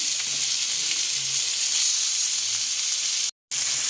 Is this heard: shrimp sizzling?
yes